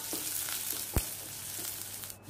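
Onions and curry leaves fry in hot oil for a South Indian potato podi, giving a continuous crackling sizzle with one sharp spoon knock and faint stirring scrapes.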